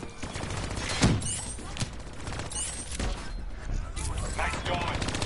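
Gun turrets firing in a shooter video game, bursts of rapid automatic fire and sharp shots scattered across the stretch, mixed with game effects while a person talks over them.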